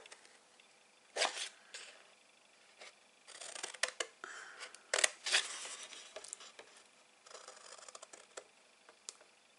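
Scissors snip through card stock for a large craft-fair gift box, with irregular bursts of crisp cuts, some in quick runs and others isolated, close and fairly quiet with no talking.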